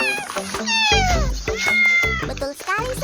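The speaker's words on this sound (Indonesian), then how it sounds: "Biasanya sobat totan yang seperti ini disebut kucing domestik karena dipelihara dan memiliki tempat tinggal." Domestic cat meowing repeatedly and loudly up close, a run of drawn-out, rising and falling cries with brief pauses between them.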